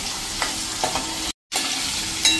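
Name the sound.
sautéing fresh pigeon peas in oil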